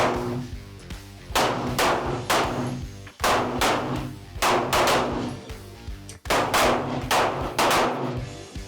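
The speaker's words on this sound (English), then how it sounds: "aim at the target, and pull the trigger as fast as you want to pull it" Loud, sharp gunshots ring out one after another at a target on a shooting range, in uneven clusters of rapid shots with brief pauses between groups.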